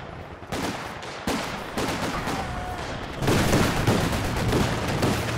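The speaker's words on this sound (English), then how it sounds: "Machine gun at the back, laying down some suppression" Sustained machine-gun fire laying down suppression in a World War strategy game, rapid crackling bursts mixed with heavier booms, continuous and fairly loud throughout.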